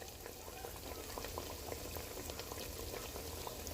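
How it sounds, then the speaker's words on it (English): Strips of chicken-fried bacon deep frying in hot oil give a steady, dense bubbling roar with scattered small pops, constant and fairly close throughout. "Deep fried bacon."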